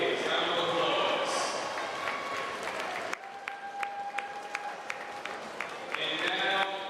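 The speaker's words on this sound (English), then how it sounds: "a round of applause for the Cardinals of Cardinal Hayes" Crowd applause for the Cardinal Hayes Cardinals team at a high school championship final, loud and sustained at first, then thinning to scattered individual claps and cheers with voices mixed in across a large venue.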